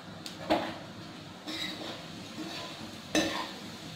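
Spices roasting in oil for a tart raw mango and fenugreek chutney, stirred in a pan with salt and red chilli: soft scraping and clinks of a spoon against the pan, a few sharper knocks, over a faint low sizzle.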